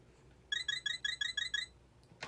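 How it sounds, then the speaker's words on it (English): The repeating low-health warning beep from the video game The Legend of Zelda: A Link to the Past, about seven quick, evenly spaced electronic beeps in a row, clear and isolated, with no talking. "we don't have to listen to that fucking beep noise anymore"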